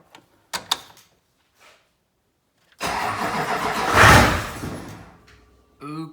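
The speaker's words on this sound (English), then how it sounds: "Okay, it doesn't want to stay running, but it's firing." A Duramax diesel in a squarebody truck cranks and catches after a few faint clicks, roaring loudly up close for about two seconds, then fading as it fails to keep running; a brief voice follows.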